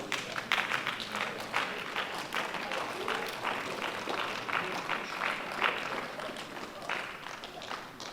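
A church congregation at a live prayer and fasting service claps for Jesus, sustained dense applause at moderate distance, continuous and fairly even throughout.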